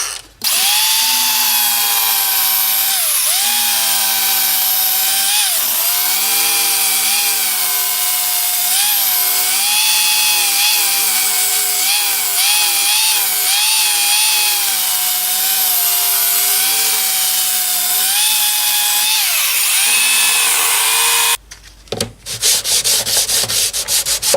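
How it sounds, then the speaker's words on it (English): A small handheld power sander works on the neck of a 1980s Aria 12-string acoustic guitar, giving a steady, loud, droning whir that runs nearly unbroken for about twenty seconds before stopping with a short clatter at the end. "I'm just gonna sand that down to be level with the rest of the neck. I've got my little power sander."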